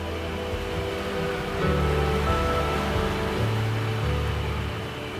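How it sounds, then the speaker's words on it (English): Gentle ocean waves roll in a soft continuous wash, swelling slightly now and then, with a low steady rumble underneath. "the sound of waves as you are watching softly, gently rolling waves"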